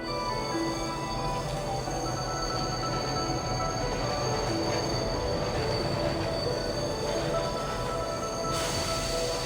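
A train in the video game Bright Paw rolls along with a continuous rumble and high, sustained wheel squeals ringing over the clatter of the rails.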